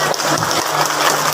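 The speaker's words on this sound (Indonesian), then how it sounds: "Ayo tepuk tangan ibu-ibu." Women in the audience at a mosque gathering for an Isra and Mi'raj commemoration applaud in a loud, dense burst of clapping lasting about a second and a half.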